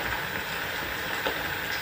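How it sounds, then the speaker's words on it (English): Rain patters steadily on forest leaves, a soft, continuous dripping hiss close by with one slightly louder drop near the middle. "Forest leaves are dripping. I seem to be following the rain."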